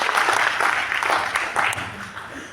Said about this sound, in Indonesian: boleh minta tepuk tangan dong